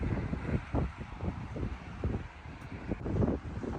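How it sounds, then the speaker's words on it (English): Strong wind roars and buffets the microphone in continuous gusts, loud and rumbling throughout, at a gas station with a Tesla supercharger in Orland. "I know it's hard to hear right now, but it's super windy."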